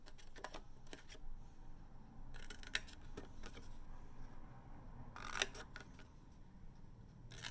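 Scissors snip the tabs of a paper box in a series of quiet, crisp cuts, some in quick pairs, separated by short pauses in an otherwise hushed room.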